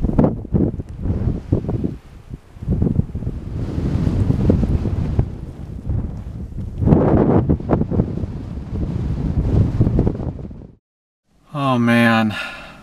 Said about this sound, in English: It is so windy out there